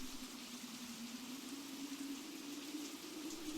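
Steady rain falls outdoors as an even, soft hiss with a faint low hum underneath, heard at a distance and quiet throughout.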